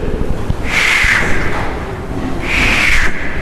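A voice imitates tired feet shuffling with two drawn-out breathy hisses, each lasting about a second, spoken up close without words.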